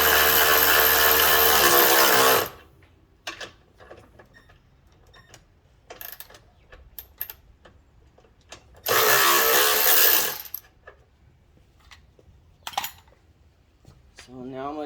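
An impact-type power tool tightening a radius rod bolt on a Can-Am X3, two loud sustained bursts of about two seconds each separated by quieter clicks and handling noise.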